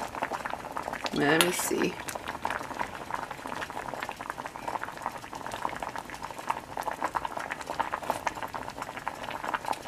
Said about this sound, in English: But you can see it's boiling away there.